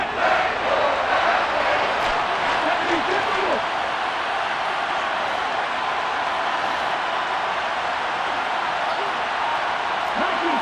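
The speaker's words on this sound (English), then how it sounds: "How about some applause for the defense there?" Crowd applause and cheering in the Madden NFL 23 football video game, a steady, loud stadium roar with clapping that fills the whole stretch, with faint shouts rising now and then.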